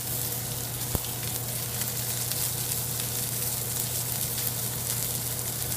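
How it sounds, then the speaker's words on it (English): Butter and green chile sizzle in a pan that was not preheated, a steady dense crackling hiss heard close and continuous, with one brief clack near the start and no talking. "so I can go ahead and put my butter now. And I can put my green chili on there."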